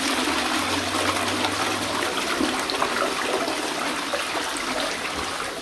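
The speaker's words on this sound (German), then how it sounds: "Und spüle mal ordentlich." Water runs in a steady, loud broadband rush while something is rinsed, continuous and close throughout with no voices.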